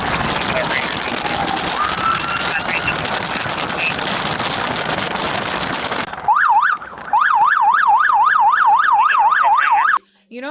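An ambulance siren wails in a steady rising-and-falling pattern, loud and close, as a police motorcycle escorts it to a hospital; the siren takes over after several seconds of dense, broadband noise.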